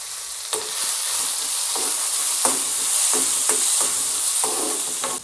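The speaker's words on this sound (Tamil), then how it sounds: "இந்த நெய்யிலே போட்டு நம்ம வறுத்துக்கலாங்க." Cut jackfruit pieces frying in ghee, a loud steady sizzle close by, with a spoon stirring and scraping the pan at irregular intervals and no voices.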